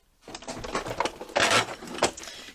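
A sewing machine stitches a box seam on a lilac messenger bag at a short 1.8 stitch length, a close, quiet run of rapid mechanical stitching in a few uneven bursts.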